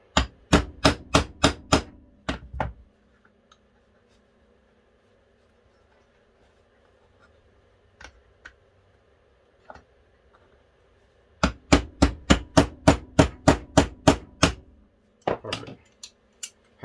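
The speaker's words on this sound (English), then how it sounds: "we'll have to use our brass hammer to get it in there." Small brass hammer tapping a part into a Browning Auto 5 12-gauge shotgun during reassembly: two close bursts of rapid, evenly spaced metallic taps, several sharp isolated knocks between them, then a final short cluster.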